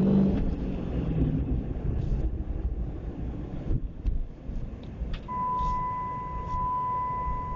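Hard acceleration from a 2012 Dodge Challenger SRT8 with a manual gearbox, a loud continuous engine roar with wind buffeting from start to finish and a steady tone rising near the end.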